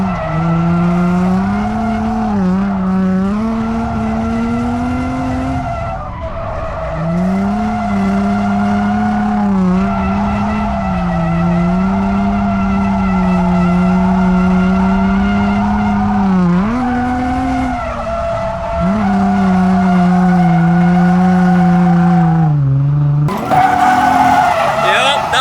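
A worn Infiniti G35 on a racetrack drifting under the e-brake, tires squealing in long sustained wails over a loud engine drone, with people talking in the car.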